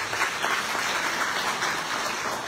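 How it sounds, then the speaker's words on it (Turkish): Audience applause filling a hall at a charity gala in Selimpaşa, a dense, steady wash of many hands clapping close by for the whole stretch, without pauses or voices. "sizlerden onlar için de bir alkış rica ediyorum"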